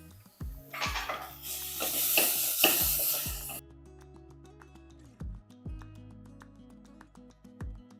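Grated carrot and vegetables sauté in a pan for corn kichadi, with a burst of loud sizzle and stirring early on, then quieter spoon scrapes and taps against the pan.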